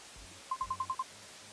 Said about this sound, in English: Your phone rings, slicing through the tension like a blade.